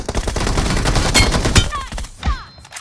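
Rapid bursts of video game gunfire crackle through a shooter match, dense and loud for most of the moment, with a short electronic chirp and a fading echo near the end.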